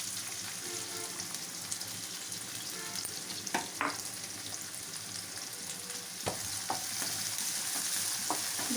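Thinly sliced onions fry in hot oil with cinnamon, cloves and star anise, giving a dense, continuous close sizzle with a few spoon knocks against the pan and no talking.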